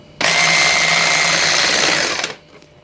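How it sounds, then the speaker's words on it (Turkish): An electric mixer whirs steadily and loudly through turmeric cake batter for about two seconds, then cuts off abruptly, leaving a faint background hum. "Şimdi tekrar mikserle karıştırıyorum."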